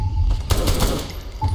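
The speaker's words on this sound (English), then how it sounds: "This is really amazing shooting." Bursts of rapid gunfire from the Saints Row 3 video game, a loud, dense rattle of overlapping shots with a brief dip before firing resumes near the end.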